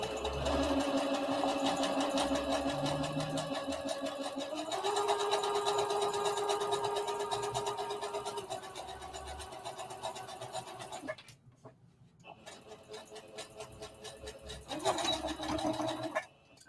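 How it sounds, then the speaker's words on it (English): A sewing machine top stitching a circle dress, running in long steady bursts with a fast, even mechanical whir, stopping briefly and then starting again, close and prominent. "So we are just top stitching."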